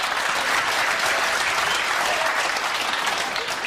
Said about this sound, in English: The applause from the combination.